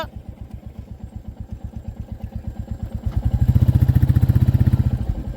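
A motorcycle on a rural road beside the expressway under construction thumps with a steady single-cylinder putter that grows louder and heavier as it revs up and draws near, then holds at a strong, close chug.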